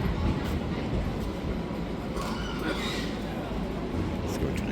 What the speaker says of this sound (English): That's the tram.